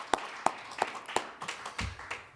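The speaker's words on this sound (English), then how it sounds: "let's give him a round of applause" A few sparse, evenly spaced claps ring out at a lecture-series event honoring a bishop, fairly quiet and distant, roughly three per second and thinning into softer, scattered hits with no talking.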